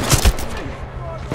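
Two heavy shotgun blasts from Titanfall 2 boom in quick succession near the start, loud and close, followed by a fading tail of game noise.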